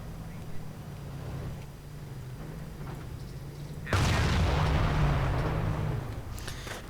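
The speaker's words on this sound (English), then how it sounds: "Lots of artillery, in fact." A sudden heavy boom of artillery fire in a World War II strategy game bursts over a low rumbling background, then trails into a dense, sustained roar before easing off.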